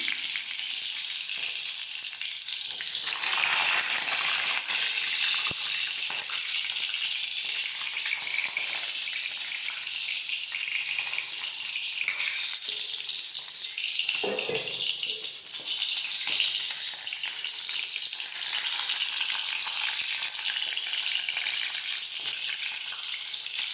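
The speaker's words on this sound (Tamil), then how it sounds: "தக்காளி நல்லா எண்ணெயிலே வதங்கட்டும்." Tomatoes fry in hot oil in a pan with a loud, steady hissing sizzle that swells after the first few seconds and continues throughout, with occasional faint stirring.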